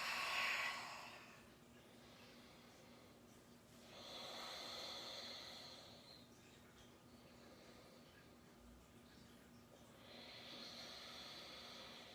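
During a deep power yoga practice, a person takes slow, deep breaths. Three long hissing exhales come through clearly, each several seconds long, with quieter inhales between them.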